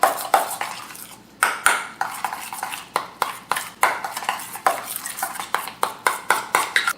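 A utensil stirs cream into pancake batter in a bowl, making steady rhythmic clinks and scrapes against the sides at close range, with no talking.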